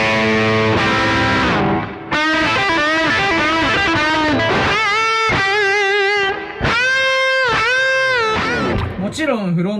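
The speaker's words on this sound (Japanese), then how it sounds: "もちろんフロントとかにしてもこの歪みに対応します。" A Suhr electric guitar plays through heavy distortion, loud and sustained, with bent lead notes and ringing chords in phrases broken by short gaps, no voice over it.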